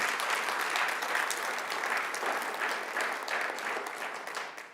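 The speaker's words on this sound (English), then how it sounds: "Give them a round of applause, please." An audience at an MLK celebration applauds award winners, a steady, full round of many hands clapping together at moderate distance, unbroken for nearly five seconds.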